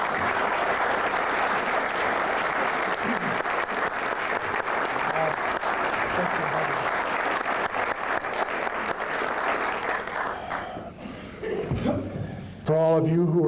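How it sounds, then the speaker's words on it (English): Sustained applause from a conference audience at the National Press Club fills most of the clip, dense and steady before thinning out, with a few voices surfacing near the end. "Let's give a warm round of applause again for Dave Bossett."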